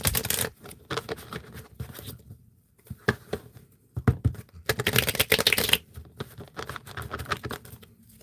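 Tarot cards being shuffled by hand during a reading, a run of soft riffling and patting bursts with brief pauses between them, close and fairly quiet, with no talk.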